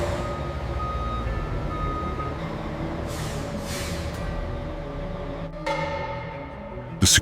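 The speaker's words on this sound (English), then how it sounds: "The recovery trucks moved into position for unloading." Recovery trucks maneuver into position to unload a rusted WWII tank, a steady reversing beep repeating over a low diesel engine idle, with brief hissing bursts like air brakes and a sharp clank at the end.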